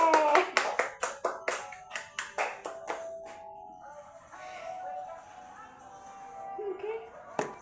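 A run of about a dozen sharp, close hand claps rings out in a home for a young girl named Eva, tapering off after a few seconds, followed by quieter talk and faint sounds.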